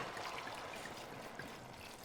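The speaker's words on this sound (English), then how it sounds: "And the last thing is an entire bottle of white wine." An entire bottle of white wine is poured over clams in a pot, a faint, steady trickle of liquid running for a couple of seconds with no talking.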